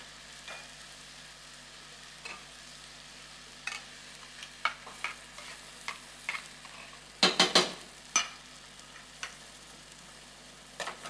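Lobster sautéed Normandy style simmers in a pan with about half a litre of cream, a soft continuous sizzle under quiet scattered clicks and a short burst of utensil clatter partway through.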